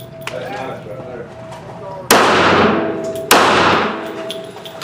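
Two loud, sharp gunshots from a Kel Tec PMR-30 pistol, about a second apart, each ringing out with a long decaying tail over a steady background hum.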